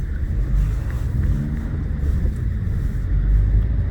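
Inside a 2018 Dacia Duster 1.5 dCi, the diesel engine pulls away in first gear as a steady low rumble with road and wind noise, heard alone without talk.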